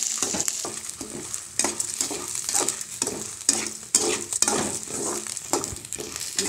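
Lentils, onion, ginger, garlic, mint, coriander, curry leaves and dried red chillies dry-roast in a pan for South Indian dal chutney, with a soft crackle beneath repeated close scraping strokes of a spoon.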